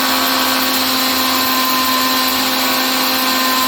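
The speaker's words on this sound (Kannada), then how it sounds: "ಓಕೆ, ಇದು ಮಿಕ್ಸಿ ಹಾಕೋತೀನಿ." Mixer grinder (mixie) runs continuously and loudly, grinding dried red chillies with a little hing into a fine dry powder-paste, a steady whining motor drone with no pauses.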